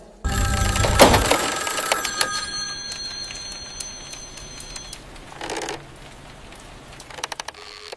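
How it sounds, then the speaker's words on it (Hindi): A telephone bell rings loudly in a short, harsh burst, then leaves a lingering electronic tone and faint scattered sounds in the quiet room. "फोन उठाओ"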